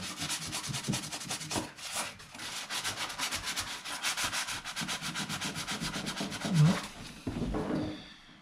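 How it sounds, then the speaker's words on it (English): Sandpaper rubbed flat against dull copper pipe conduit with soldered joints for an industrial-style light fitting, giving a steady, close, rhythmic scratchy rasping that runs continuously for several seconds before pausing near the end. "As soon as you just rub it flat with a bit of sandpaper."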